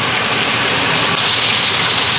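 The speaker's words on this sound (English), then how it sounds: "I'm going to get my blower back on because it's really smoky." A kitchen range-hood blower runs as a steady, loud broadband whoosh throughout while a cold-smoked porterhouse steak pan-fries in a smoky kitchen, with no talking.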